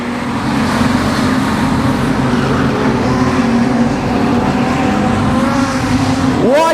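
Modified sedan race cars lap Kingaroy Speedway in a feature race, a steady loud roar of engines with overlapping revving tones, and one car sweeps past close at the end with a rising-then-falling pitch.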